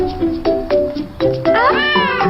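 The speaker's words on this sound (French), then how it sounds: "Il s'appelle Tompouce et c'est mon chat" A cat meows several times in a row, close and clear, with drawn-out, rising and falling cries and short pauses between them.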